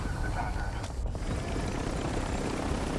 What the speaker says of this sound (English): Come on, come to the helicopter.